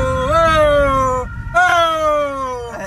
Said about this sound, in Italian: ci stiamo dietro con la sirena